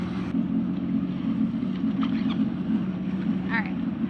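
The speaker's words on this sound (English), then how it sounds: "Sounds like a motor." A jetboat engine drones steadily at close range, a constant low rumble with brief faint squeaks over it; the exhaust water pipe clamp is broken.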